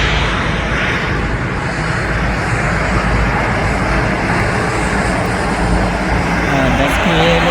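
A KLM airliner landing gives off a continuous broad engine roar heard from outdoors, steady and fairly loud throughout, while people talk faintly.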